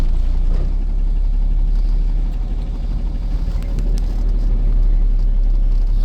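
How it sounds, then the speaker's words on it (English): A 1993 Jeep Cherokee engine runs steadily up close, a loud continuous low rumble with a rattling exhaust and faint clatter on top, no talking. "I do believe that rattling noise is an exhaust."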